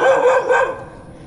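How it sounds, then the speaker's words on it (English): A neighbor's dog barks in a quiet residential street in Dumaguete, the Philippines, one loud, close bark drawn out briefly before fading. "Despite that dog barking, this is actually a quiet neighborhood as the dog continues to bark."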